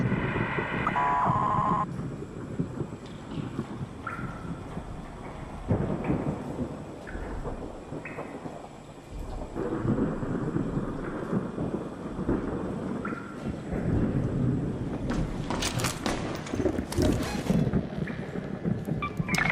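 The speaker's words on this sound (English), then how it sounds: "Magnetic storm is currently raging over topside. Beware the lightning strikes if you're outdoors." A magnetic storm rages in the video game Arc Raiders, with rolling thunder booms and crackling lightning strikes over a steady wash of rain and wind, loud and continuous with sharp cracks near the end.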